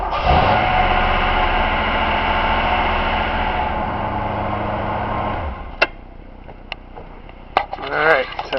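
A car engine runs with a steady low drone and a light lifter ticking that quickly settles, then cuts off at about six seconds, leaving scattered clicks, knocks and handling noises.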